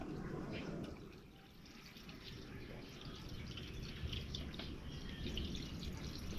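Water runs and pours into a cooking pot in a kitchen, a steady, soft liquid rush with faint splashing, heard alone at low level.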